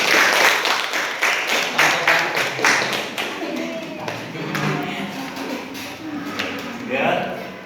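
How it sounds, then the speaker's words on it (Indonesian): A classroom claps for a student named Rizky during a network infrastructure lesson, scattered hand claps in an uneven rhythm that thin out toward the end, with a teacher's voice talking over and after them. "boleh tepuk tangan buat adik Rizky."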